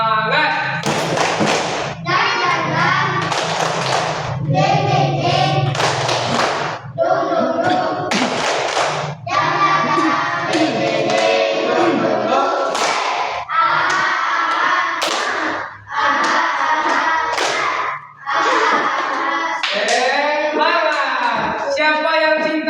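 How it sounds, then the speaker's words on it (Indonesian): Children in a group perform a rhythmic spirit clapping chant, bursts of shouted chanting in unison punctuated by sharp clap patterns, repeating in short phrases with brief pauses between. "marilah kita tepuk semangat terlebih dahulu. Tepuk semangat."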